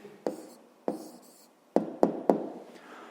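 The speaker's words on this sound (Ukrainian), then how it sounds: "Ну що ж, записуємо відповідь." A pen writes out the answer to a fifth-grade percentage problem, making several sharp taps and short scratchy strokes close by on paper.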